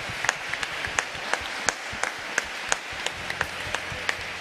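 A church congregation claps in a steady rhythm, distinct claps landing regularly about three per second over a soft wash of background clapping and room noise.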